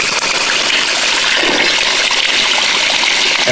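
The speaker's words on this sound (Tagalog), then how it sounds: "Kalakas ang tubig, oh." Cold spring water gushing strongly from a natural spring, a loud steady rushing flow that fills the whole clip without pause.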